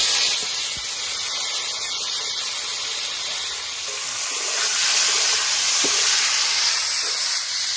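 Boiled pork frying in leftover oil in a pan, a steady loud sizzle and hiss throughout with faint stirring clicks, no talk.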